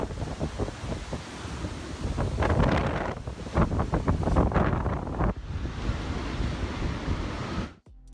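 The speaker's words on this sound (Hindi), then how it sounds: "इन खतरनाक हवाओं के साथ टाइफून जेबी ने विशाल लहरें पैदा की, जो दक्षिण पूर्वी जापान के तट को तोड़ने लग गईं।" Huge waves whipped up by Typhoon Jebi crash against Japan's southeastern coast, a loud, churning roar of surf under gusting wind buffeting the microphone, with heavy surges rising and falling throughout.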